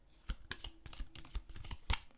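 Tarot cards are shuffled by hand in short, close riffling bursts, each with a dull slap, as a card flops loose from the deck.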